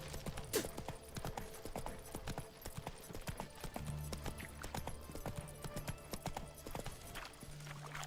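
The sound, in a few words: horse hooves while riding in video game Witcher 3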